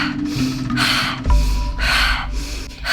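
Forceful, rhythmic breaths from a breathing exercise come close and loud as sharp rushing bursts in quick succession, with no talking.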